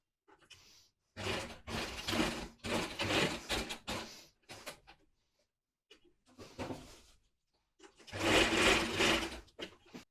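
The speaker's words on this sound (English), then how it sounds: "Place your string over here on the marking and just run a machine." A sewing machine runs stitches along strings laid on a marking on fabric for a yoke and pardi, whirring in several close bursts of steady, rapid rattling separated by short pauses.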